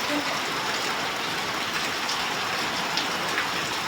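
Heavy rain pours steadily with a dense, continuous hiss, likely with water running along a flooded road, close and loud throughout with no break.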